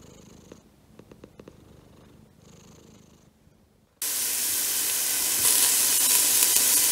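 A contented house cat purrs softly and close with a low, steady rumble, then a loud hissing sizzle of onion frying in coconut oil suddenly takes over.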